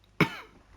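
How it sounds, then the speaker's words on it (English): A single short, throaty cough from a character in the video game Bloodborne, quiet and close, with a brief rasping tail and nothing else around it. "It just sounds like you got a bit of a cough."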